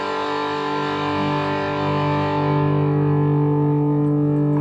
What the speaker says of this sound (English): I put it on the bridge pickup, again a healthy dose of gain or distortion, and then back off the tone knob a little bit